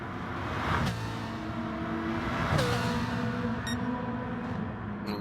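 A racing car engine in a motorsport video game revs and shifts through gears, with harmonic engine tones rising and dropping, steady and fairly loud throughout, no talking.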